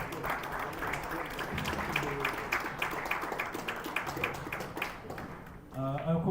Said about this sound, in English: So please, a little round of applause for the referees.